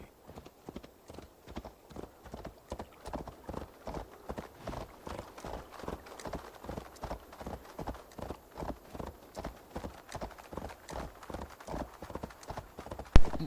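Steady clip-clop of horse hooves trotting in Assassin's Creed Valhalla, in a quick, even rhythm, fairly close and continuous, with a brief louder thump at the very end.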